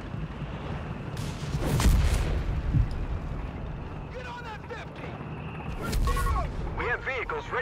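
Battlefield combat in Company of Heroes 3 with a .50 cal machine gun and tank guns, booming shots and heavy impacts over a constant rumble of engines, heard under someone talking.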